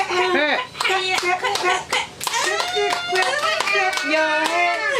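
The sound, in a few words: child's hands clapping at birthday candle blowing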